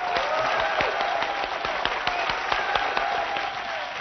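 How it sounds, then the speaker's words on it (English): A studio audience applauds a European stage magician on a talk show, a dense, lively round of clapping with a few sharper individual claps standing out, continuous from start to finish. "Give him another round of applause"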